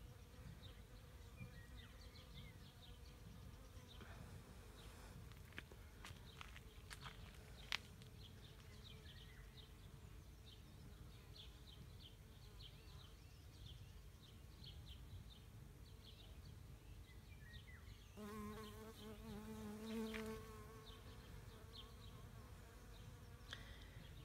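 Bees buzz faintly and continuously in flowering oak trees in rural Portugal, a soft droning hum with occasional nearer passes and faint bird calls.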